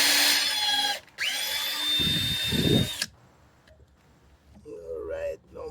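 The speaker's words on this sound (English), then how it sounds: "we have to pre-drill the holes first" A power drill pre-drills holes in wood for a palm box, two loud bursts of whining motor about three seconds long, followed by quieter handling noises and a brief voice.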